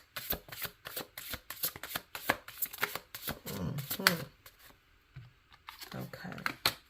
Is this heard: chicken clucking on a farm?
no